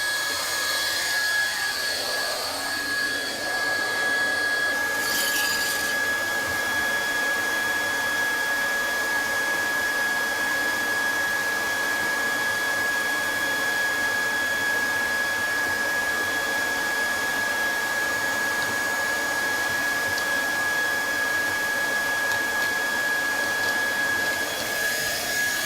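A handheld Triac hot air welder blows steadily while welding vinyl flooring, making a continuous, fairly loud airy hiss and whoosh that runs unbroken for the whole stretch with no talking.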